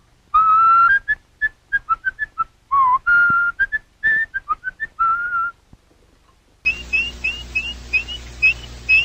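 A mechanical-sounding Disney animatronic bird whistles a lively tune in short bright chirps and trills, pauses briefly, then resumes with rapid warbling over a low mechanical hum.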